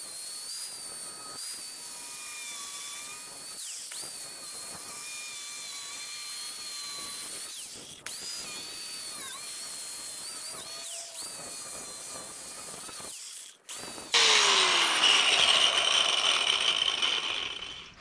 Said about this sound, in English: I'm going to somewhere or another cut just enough of that collar off